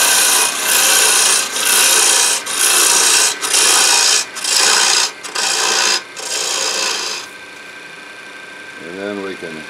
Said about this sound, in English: I go to my quarter inch detail gouge.